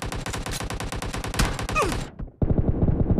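Rapid automatic gunfire from a PUBG team deathmatch, loud dense bursts of repeated shots that break off briefly near the end before another fast volley resumes.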